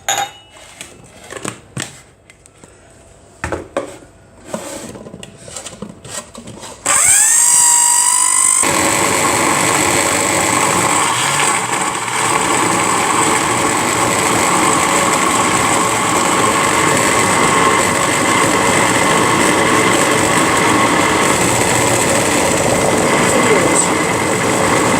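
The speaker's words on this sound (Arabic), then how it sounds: "انا هضربه كله في الخلاط مع بعضه واحط عليه شويه ميه" An electric blender whirs loudly and steadily as it purees carrots and green olives with a little water, starting abruptly after a few quiet seconds of clinks and handling noise, with a sharp whine at startup.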